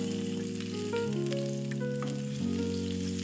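Ginger and garlic sizzle in olive oil over a high flame, a steady frying hiss partly buried under loud background music with shifting tones.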